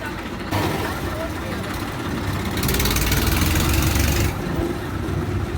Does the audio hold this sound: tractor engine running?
yes